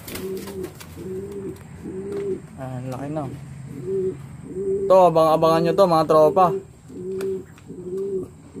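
Pigeons coo nearby in a steady rhythm of soft, low, repeated calls while someone talks over them in bursts.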